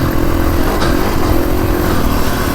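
A Kawasaki KX450X dirt bike roars loudly and steadily at close range as it is ridden over sandy terrain, its engine droning without letup.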